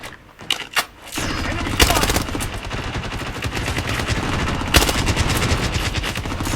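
Automatic gunfire from the shooter game Blood Strike rattles in dense, loud bursts after a few sharp single shots, with rapid overlapping reports and louder booms mixed in.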